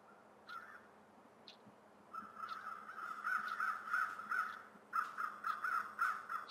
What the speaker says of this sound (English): Don't hear anything but crows flying